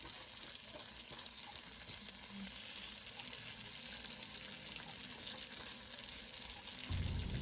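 Pork pieces simmer in water in a pot for ginataang gulay, giving a steady, soft bubbling hiss that continues evenly throughout, with a slightly louder low rumble near the end.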